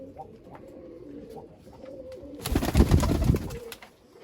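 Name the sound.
pure Sialkoti pigeon cooing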